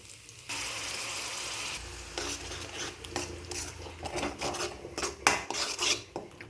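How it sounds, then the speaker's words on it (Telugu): A ginger, tomato and onion paste for mushroom masala curry is stirred in a pan of oil, a scraping, rasping spoon against metal with soft frying beneath, growing busier and more clattery toward the end, no voices. "పేస్ట్ అంతా బాగా ఫ్రై అవ్వాలి"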